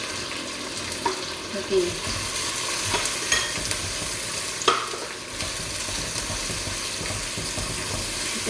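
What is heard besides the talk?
curry leaves and tomato frying in clay pot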